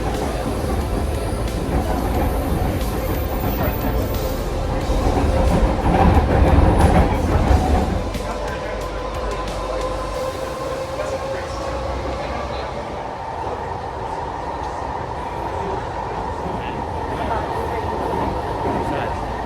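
A Vancouver train rumbles loudly along the track, a deep rolling roar that swells and then eases into a steadier hum and rattle, with people talking nearby.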